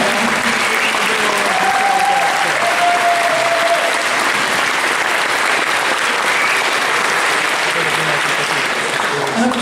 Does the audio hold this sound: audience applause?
yes